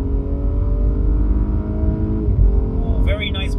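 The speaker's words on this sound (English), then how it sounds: "I hear the valves in the exhaust that just opened up" A 2020 Audi S5 Sportback accelerates hard with its exhaust valves open, the engine note rising steadily as it pulls and burbles, heard from inside the car under a driver's talking.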